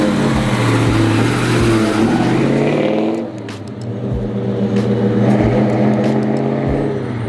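The 450 horsepower LS6 Chevelle's V8 revs loudly and close by with a deep, lumpy rumble. The revs drop briefly, then the engine settles into a throbbing idle with rhythmic pulses.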